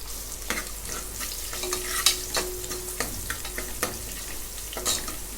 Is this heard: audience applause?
no